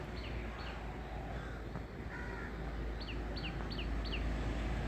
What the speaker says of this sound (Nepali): चराचुरुङ्गीको आवाज।